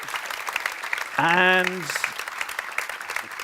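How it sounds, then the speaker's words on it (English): An audience applauds a panel at the GLOBSEC Forum 2024, with the clapping running throughout while a speaker briefly talks over it in the middle. "Please give them a round of applause."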